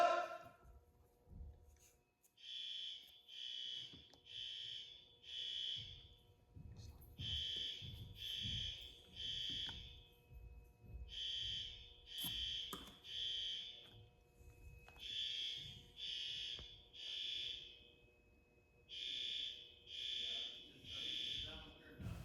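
A newly installed school fire alarm sounds in repeated bursts of high-pitched tones, grouped pulses with short pauses between, over low background rumble and faint voices.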